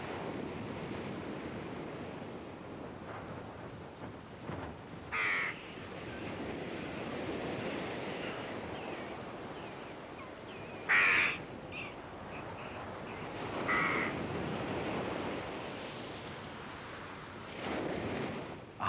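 A raven and jackdaws calling over sea cliffs, with several short harsh caws at intervals rising above a constant wash of surf and wind buffeting.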